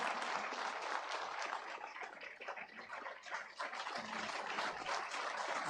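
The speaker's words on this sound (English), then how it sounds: "clap for him until he gets to the podium" Sustained applause from a conference audience at a climate justice event as a speaker walks to the podium, a dense steady wash of clapping with no voices.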